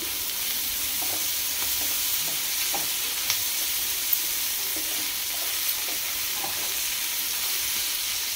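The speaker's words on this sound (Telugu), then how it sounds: "దీంట్లో కొద్దిగా అల్లం వెల్లుల్లి పేస్ట్ వేసుకుందాం." Ginger garlic paste frying in a pan for a capsicum curry, a steady, even hiss of sizzling with faint scraping from stirring and a few small clicks, no talk.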